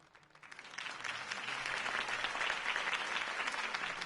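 Crowd applause after Harvey Dent's campaign speech in a Batman video game, starting softly, then swelling into a steady wash of many hands clapping at a distance and holding even.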